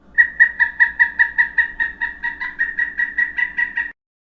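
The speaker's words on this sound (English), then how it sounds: "and pileated woodpecker says." A pileated woodpecker calls in old-growth forest: a loud, close series of about fourteen ringing notes, evenly spaced and slightly slowing, heard alone against a quiet background.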